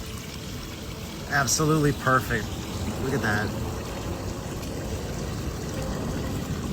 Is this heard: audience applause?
no